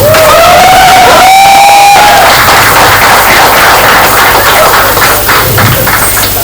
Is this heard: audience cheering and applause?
yes